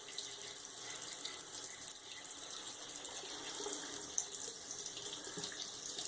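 Running tap water pours steadily into a sink as a razor is rinsed under it, a constant close splashing hiss throughout with no talking.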